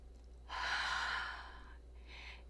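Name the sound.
one deep cleansing breath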